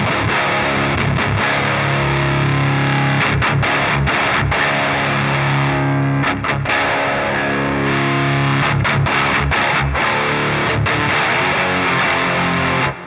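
Heavily distorted electric guitar through the Neural DSP Gojira X plugin, a thick, muddy metal tone played loud and continuous, with chugging chords interrupted by short palm-muted gaps and stops.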